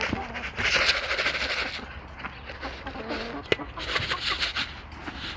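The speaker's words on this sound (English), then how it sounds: "there's the chickens" Chickens cluck and chatter close by on an allotment amid a busy, noisy background with rustling and a brief sharp tap.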